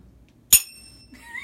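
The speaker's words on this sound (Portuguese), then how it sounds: "Toca o sino pra gente, tá?" A small bell is struck once, giving a sharp bright ding with ringing overtones that decays quickly in an otherwise quiet room, followed by a faint softer tone.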